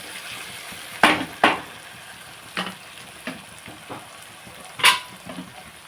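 Okra pieces stirred and fried in a pan with softened onion, giving a low continuous sizzle broken by a handful of louder scraping strokes of the spoon against the pan.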